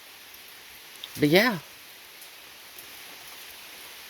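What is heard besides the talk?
rain falling outside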